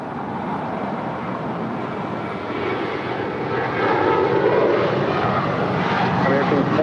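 American Airlines flight 2886, a seven-year-old Airbus A321, taking off from LAX bound for Dallas Fort Worth, its engines a sustained loud roar that swells midway, with talking over it.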